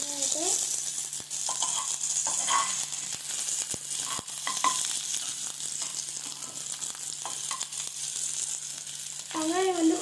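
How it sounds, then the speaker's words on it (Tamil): Onions sautéing in a pan give a steady, moderate sizzle with occasional stirring clicks, while a voice speaks briefly at the start and end. "வெங்காயம் கொஞ்ச நேரம் வதங்கிட்டோம்."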